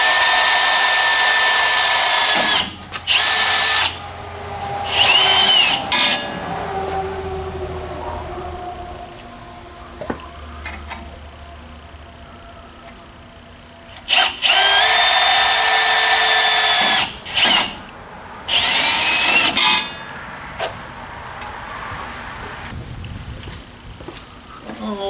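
A power drill fitted with a step bit bores through metal during disc brake repair work, sounding as several loud, sustained whining bursts of two to three seconds each, separated by quieter stretches of shop noise.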